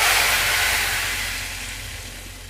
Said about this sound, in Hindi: तब हम इस तड़के को डाल देंगे दाल में।